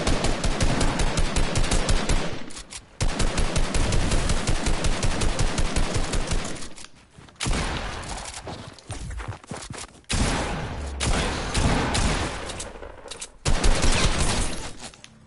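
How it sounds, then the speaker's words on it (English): Rapid automatic gunfire in a shooter video game rattles close and loud in long sustained bursts, broken by brief pauses and a few scattered shots, with a final heavy volley near the end. "They're shooting at us from 306."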